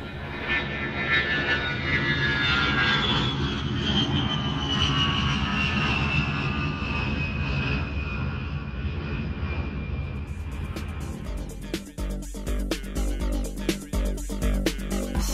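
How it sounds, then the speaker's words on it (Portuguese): An airliner roars through its takeoff run, a loud, steady jet rumble with a whine sliding downward, then shifting to a rattling cabin rumble as it climbs; no voices. "Decolando."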